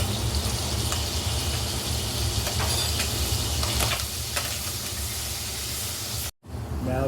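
Sofrito hits hot oil with browned ham, a loud, steady close sizzle and hiss of frying with faint stirring, cutting off abruptly near the end before resuming.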